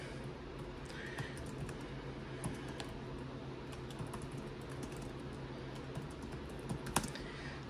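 Typing on the backlit keyboard of a Lenovo ThinkBook 2-in-1 Gen 4 laptop, a steady stream of soft key clicks at close range with a few sharper taps near the end, no voices.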